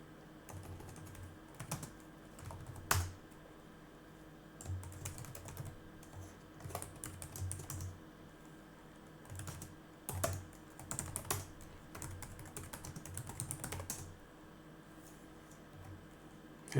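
Keys clatter on a computer keyboard in scattered bursts of quick clicks with pauses between, fairly faint and close, as a passwd command and password are entered.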